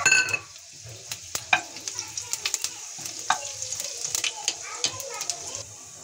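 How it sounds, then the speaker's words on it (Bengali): Cumin, dried red chillies and whole spices hitting hot oil in a pan, a sharp burst of sizzling followed by repeated crackles and pops, close up, with faint background voices. "কড়াইতে তেল গরম হয়ে গেছে, এখন আমি ফোড়ন দিয়ে দিচ্ছি।"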